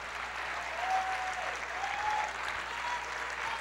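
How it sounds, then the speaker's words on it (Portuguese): A church congregation applauds at a worship service, a sustained, even wash of many hands clapping that swells gently and stays fairly distant under a low background hum. "Aplauda, libere"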